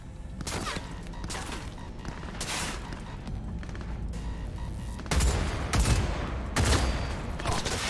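Bursts of assault rifle fire ring out in the video game Cyberpunk 2077, several loud rapid volleys separated by short gaps, with heavier booming shots near the end and no talking.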